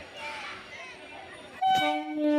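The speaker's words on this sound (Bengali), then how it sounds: "বারোটা পঁচিশে সোনারপুর থেকে ছাড়লো আমাদের ট্রেন" A local train pulling out of Sonarpur station, bound for Namkhana: a low rumble and faint murmur at first, then a loud, sustained horn blast sounds and repeats near the end.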